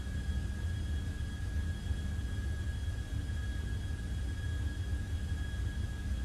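An Airbus A330-300 cruising at flight level 350 in Flight Simulator X, a steady low cabin rumble with a faint constant whine, unchanging throughout.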